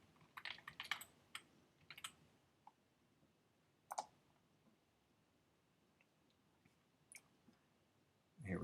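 Fingers tapping on a computer keyboard while entering login details, quiet scattered clicks in short bursts with pauses between them, close to the microphone in a still room.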